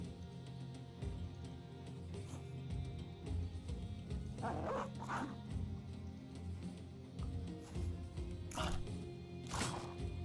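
Dog in the game Battle Brothers giving a run of short yips and barks with whimpering, several sharp bursts spaced over ongoing low game rumble and clatter, no talk.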